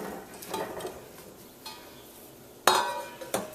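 Chunks of pumpkin drop into a pot of curry shrimp, with a few sharp clinks and scrapes of a spoon against the pot over a faint simmer, the loudest knock near the end.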